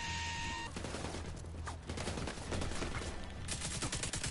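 Rapid, sustained automatic gunfire in a video game, loud and close, with continuous rattling bursts and a brief electronic tone at the start.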